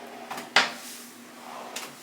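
A deep drawer in a resort hotel room slides and bumps shut with a sharp knock, then another softer slide follows a moment later, close by in a quiet room.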